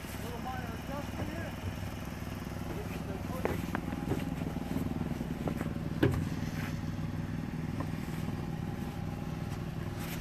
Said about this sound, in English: We talk about a two-stage snow blower.